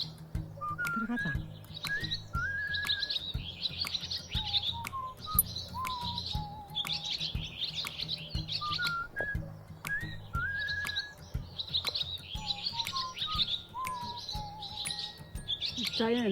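Small birds chirp and twitter outdoors on a spring day, with repeated short calls and whistled notes at a moderate distance over a faint low background hum.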